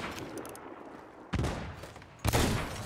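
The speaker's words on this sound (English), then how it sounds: "Shot him." Gunfire in the pirate video game Sea of Thieves, two sharp broadband blasts about a second apart, each followed by a sustained rumbling tail over a low ambient game bed.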